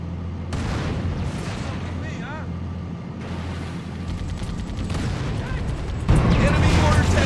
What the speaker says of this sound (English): Enemy mortar tank sighted at my position.